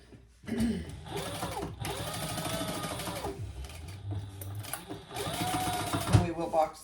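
A sewing machine stitching fabric pieces together along a seam, running in loud close whirring bursts with brief stops, while someone talks over it.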